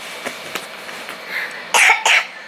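A few light coughs, then two louder, harsh coughs close together near the end, from a child close by.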